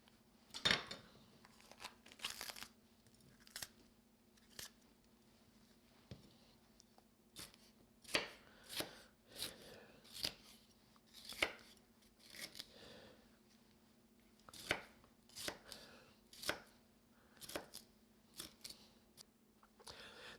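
A knife chops vegetables on a wooden cutting board in a home kitchen, a series of quiet, irregular sharp knocks and slicing taps, some clustered in quick runs with short pauses between, close and soft without speech.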